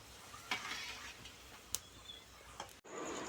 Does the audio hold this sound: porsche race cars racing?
no